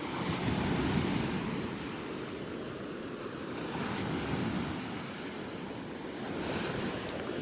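Rough Gulf of Mexico surf breaks steadily on a beach in North Naples, Florida after days of storms, a continuous loud wash of waves that swells and eases in slow surges, with some wind buffeting the microphone and no voices.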